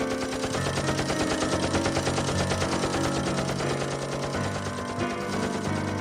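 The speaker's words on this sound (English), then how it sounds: "He's ruining my plane with bullets." Rapid machine-gun fire strafing a Sopwith Camel biplane in a World War I dogfight scene from a high school stage production, a loud, continuous rattling burst that runs steadily throughout.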